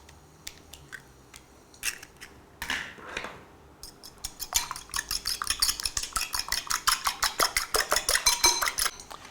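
Eggs and minced garlic are whisked in a bowl with chopsticks. A few separate clinks come first, then a fast, even run of close clicking strokes that grows louder, with no talking.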